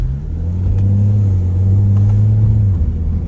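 A car engine rumbles close by with a deep, steady low drone that swells slightly as it revs, then settles near the end, with no one speaking over it.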